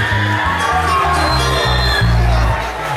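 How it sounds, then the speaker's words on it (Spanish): A live stage-show crowd for a cumbia act roars with steady cheering and whoops over pulsing bass music, loud and sustained throughout. "Los aplausos bien fuertes, muchas gracias."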